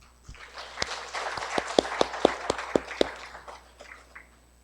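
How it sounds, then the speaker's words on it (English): Conference audience claps at KohaCon 2017, a scattered round of applause with a few sharp individual claps standing out, moderate and brief, fading after a few seconds. "Let us all give them a round of applause."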